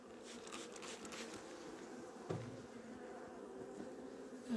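Honeybees buzz softly around an open beehive with nectar-filled frames, a faint, steady hum with a small knock partway through.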